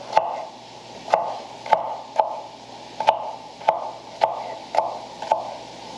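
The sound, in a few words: knife cutting potatoes into chunks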